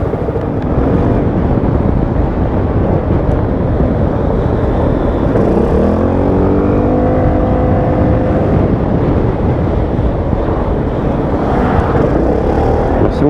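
A Yamaha XMAX 300 scooter rides through the city with a loud, continuous engine drone and heavy wind rush, its pitch rising and falling briefly midway as it accelerates.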